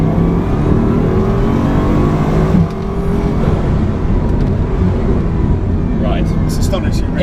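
Turbocharged 2018 Bugatti Chiron accelerating hard along a straight road, its engine roar steady and loud from inside the car, with rising whine and faint clicks near the end.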